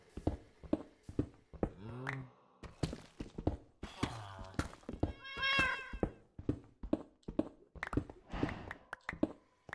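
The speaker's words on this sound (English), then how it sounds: "Now you can hear the cats echoing." Cats meow repeatedly in a Minecraft cave from the Alex's Caves mod, one an irradiated cat, their calls echoing over a steady patter of thumps and game sounds, several meows rising and falling close by.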